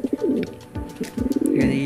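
Homing pigeons at a loft in Paete, Laguna coo in low, throaty bursts, with repeated rolling coos near the start and a longer run toward the end, close by, with faint chirps above.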